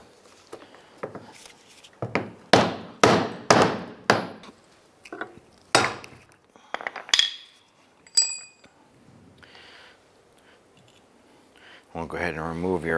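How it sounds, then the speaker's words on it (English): A brass punch is hammered around the notches of a fuel pump locking collar on a 2002-2008 Dodge Ram 1500, giving a series of sharp metallic taps in quick irregular succession, then a few fainter clinks and a rattle at the end. "use a brass punch, and we're going to hit around each one of these notches."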